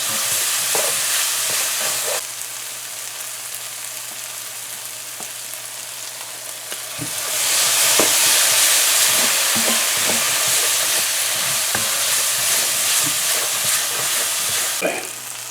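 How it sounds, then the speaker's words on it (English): Curry paste for Guyanese karhee fries in a pot, a continuous loud sizzle with scattered stirring clicks and scrapes, the hiss swelling louder partway through. "So while our curry paste is cooking there for the 2 minutes"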